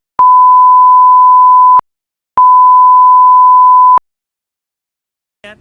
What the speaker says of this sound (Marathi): नाव घे फक्त आणि बीप करू